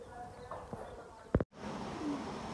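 Kept pigeons coo softly in the background as they come down to land, with a brief burst of flapping wings midway, then a steady low ambient hum.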